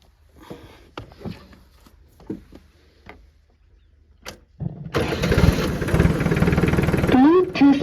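Swaraj Target 630 tractor engine cranks and catches, then runs loud and steady close by, a rough diesel roar filling the second half after a few short knocks and some talk.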